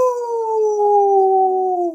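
A man imitates a wolf howl with his own voice: one sustained, loud, close howl lasting about two seconds, pitch sliding gently downward and fading at the end.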